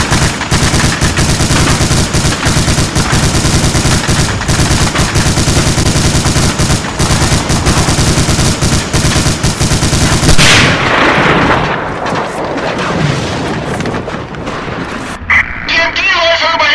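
Sustained, loud MG-42 machine gun fire in a LEGO D-Day battle animation, rapid continuous bursts with heavy gunfire dominating for about ten seconds before fading into scattered battle noise and a shout.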